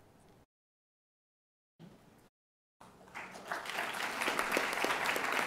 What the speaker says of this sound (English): Give a loud applause to Louis Emeric Xavier Adelade.